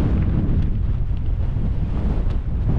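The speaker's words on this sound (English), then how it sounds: "the trouble is the wind's blowing the wrong way" Strong wind roars across a microphone on an exposed mountain pass, a loud, continuous, rumbling buffet with no pauses or voices.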